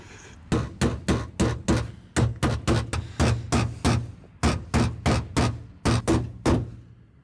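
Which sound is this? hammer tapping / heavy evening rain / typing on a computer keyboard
hammer tapping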